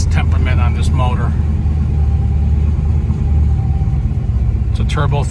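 A 1969 Chevrolet Nova with a 350 V8 and Turbo 350 transmission idles at steady revs, giving a loud, even low rumble throughout, with brief voices near the start and end.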